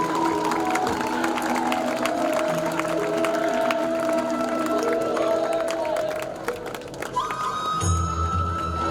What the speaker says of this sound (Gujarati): જોરદાર તાળીઓ પાડીને વધાવીશું આજના ક્ષણના ભાગીદારો